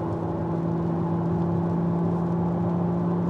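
McLaren Artura supercar moving in quiet electric mode at 6 in the morning: a steady, moderately loud electric whir with constant tonal hum, no engine revving, no voices.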